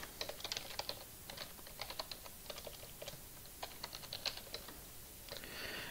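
Fingers tapping out keystrokes on a computer keyboard in quick irregular runs with brief pauses, close and quiet, with no voices.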